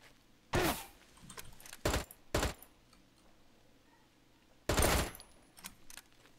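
Gunfire in the survival game SCUM from a scavenged gun: a few sharp, loud shots, a single burst near the start, two quick cracks soon after and another burst later, separated by quiet ambient background.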